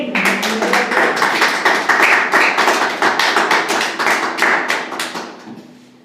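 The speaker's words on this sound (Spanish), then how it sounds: "Vamos a dar un aplauso a Dios." A church congregation claps in a brisk, fairly loud burst of applause, individual hand claps audible in quick succession before tapering off and fading out.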